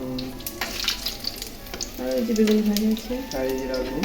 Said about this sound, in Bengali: বন্ধুরা আমরা এখন বেগুনি ভাজছি